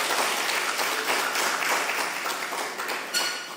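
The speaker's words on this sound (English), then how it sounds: "let's give all of them a round of applause" An audience at an investor education community roadshow gives the presenters a round of applause, a dense, even patter of many hands clapping that tapers slightly toward the end.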